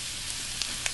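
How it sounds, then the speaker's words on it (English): Thinly and evenly sliced carrots, one cup's worth, frying in a pan for low-fat pancit, a steady broadband sizzle with a few soft pops and crackles, close and alone with no voices. "I'm cooking the carrots next"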